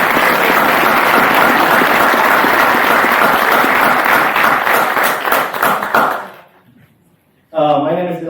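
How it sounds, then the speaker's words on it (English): An audience applauds senior students presenting projects at a symposium. Dense, loud clapping continues for about six seconds and then fades out, after which a voice starts speaking. "giving a round of applause for our senior students and for those who are presenting their senior projects today"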